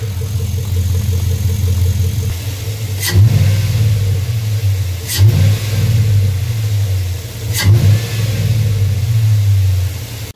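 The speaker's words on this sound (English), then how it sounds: "really hear it pull air when you hit the gas" A Chevrolet Silverado pickup engine with an aftermarket cold air intake idles, then revs three times in sharp bursts, each with a rushing intake whoosh, loud and close.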